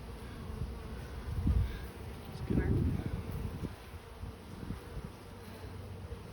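Honeybees buzz around an open hive during a frame inspection, a steady low insect drone with a couple of louder swells as bees pass close, and faint background noise throughout.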